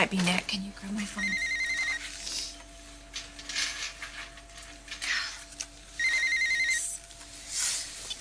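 A telephone rings indoors in repeated electronic trilling bursts, two clear rings separated by a pause, with quiet background voices and faint clatter.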